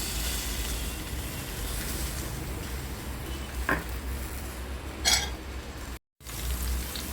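Chopped onion and cumin frying in oil in a pan, giving a soft continuous sizzle with a couple of brief clinks of stirring, close and low-level, cut by a short silent gap near the end, with no talking.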